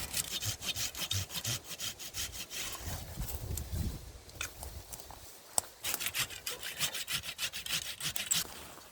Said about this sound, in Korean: 먼저 톱질을 해서 가지를 좀 제거하겠습니다